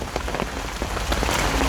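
Rain falls steadily on surfaces during the rainy season at a home in the forest, a dense close patter with scattered louder drops and no voices.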